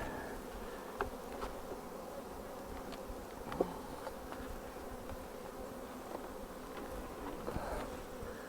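Honey bees buzzing around hive supers, a continuous low droning hum with faint bumps and small clicks from nearby insects, steady and fairly quiet with no talking.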